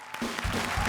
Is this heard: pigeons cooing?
no